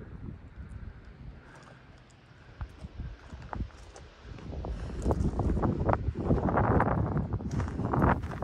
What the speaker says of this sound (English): We determined that the wind was getting worse and it was getting too windy to camp